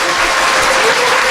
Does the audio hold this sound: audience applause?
yes